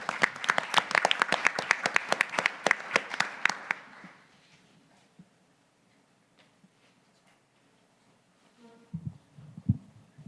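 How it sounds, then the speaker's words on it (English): An audience at a business breakfast event claps together for about four seconds of brisk, fairly close applause that fades into quiet room noise, with a few stray sounds near the end. "Give him a round of applause."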